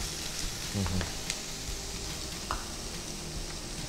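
Cabbage tossed into a hot pan over a golden-browned base for a chapati filling, giving a steady close sizzle with a couple of brief clatters near the start.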